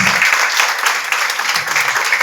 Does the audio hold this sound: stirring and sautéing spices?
no